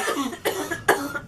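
A girl coughs three times in quick succession, close and fairly loud, with a short gap between each cough.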